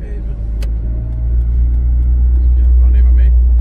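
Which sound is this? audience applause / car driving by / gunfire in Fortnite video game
car driving by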